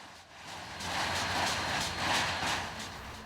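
Union Pacific steam locomotive No. 844, built 1944, rumbles steadily past with a broad hiss and rhythmic chuffing pulses, fairly close and loud.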